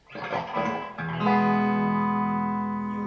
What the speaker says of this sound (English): You'll hear the mid go through this kind of wah-wah effect.